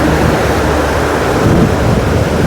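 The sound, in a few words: river flowing with waves over a deep hollow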